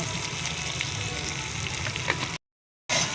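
Cabbage sizzles and crackles steadily as it is stir-fried in a pan, a dense, close frying hiss with occasional stirring scrapes, cut by a brief silent gap before the sizzle resumes.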